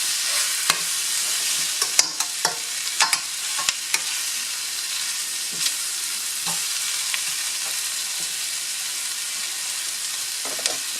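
Beef stir-frying in a hot pan: a steady, close sizzle broken by repeated scraping and clacking as a utensil stirs the pieces, louder clacks early on and sparser ones later, with no voices.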